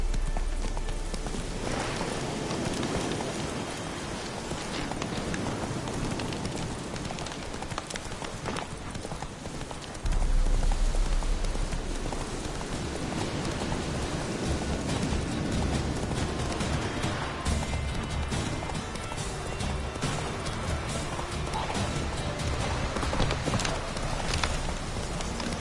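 Roach, a horse in The Witcher 3, gallops in a steady, rapid hoofbeat rhythm throughout, close and continuous over a dense game soundscape with no talk.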